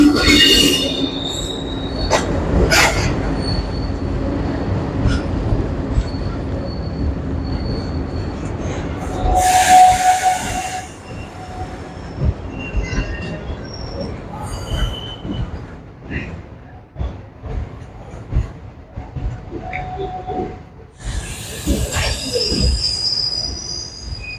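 A passenger train rumbles past close by on the Punalur route, wheels squealing sharply at moments, with rattling carriages and clatter that slowly fades toward the end.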